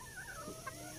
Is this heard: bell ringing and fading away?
no